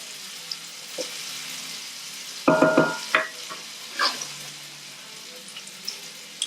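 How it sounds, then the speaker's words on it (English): Red peppers blister in a pan with a soft, close sizzle, broken midway by a burst of clattering stirs and scrapes, then settling back to a quiet hiss with occasional small ticks. "Just trying to blister these up a little bit."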